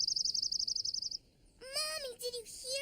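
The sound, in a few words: small bird chirping in a cartoon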